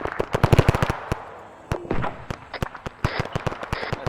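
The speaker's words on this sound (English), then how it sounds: "The tank's firing its lobbing HE Victor shells ground" Arma 3 combat with a tank lobbing HE shells, heard as a dense string of sharp cracking shots and booms in irregular clusters, loud and close, with a brief pause midway.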